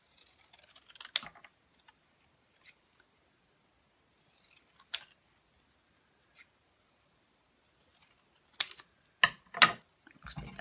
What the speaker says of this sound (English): trim this down, see if I can manage to cut this a bit straighter this time